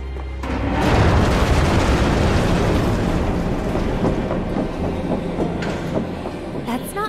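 A Sector 7 train pulls out of the station in Final Fantasy VII Remake: a loud, steady rumble with heavy low booming and rattling carriage noise that builds and carries on for several seconds.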